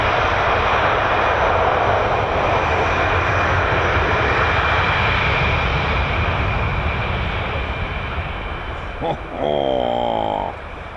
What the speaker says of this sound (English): Low altitude, high speed departure.